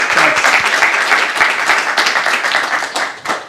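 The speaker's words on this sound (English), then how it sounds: "can we give Pete another little round of applause?" An audience at a JavaScript meetup in Edinburgh claps in a dense, steady round of applause that stays strong before tapering slightly at the end.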